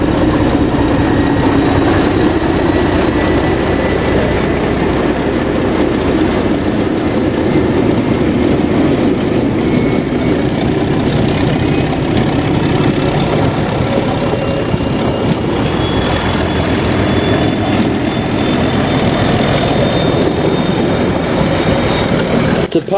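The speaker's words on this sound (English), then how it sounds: "After a quick stop in Palmerston, the train gets underway." Diesel locomotive Di 1102 pulls away from Palmerston, its heavy engine droning loud and steady throughout, with rising whining tones as it gathers speed and a continuous rumble of the moving train.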